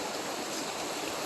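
Waterfall on a creek, a steady broadband rush of falling water heard close and fairly loud throughout, with no voices.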